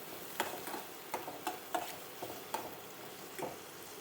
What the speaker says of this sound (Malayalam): ഉള്ളിയും വെളുത്തുള്ളിയൊക്കെ മൂത്ത് വരുന്നുണ്ട്.